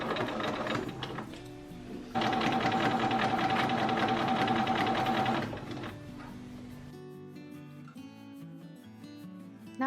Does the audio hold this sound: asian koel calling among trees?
no